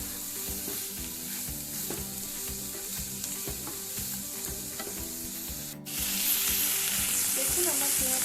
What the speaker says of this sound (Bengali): ভালো করে তেলটা পুরো পেঁয়াজটার মধ্যে মিশিয়ে নিই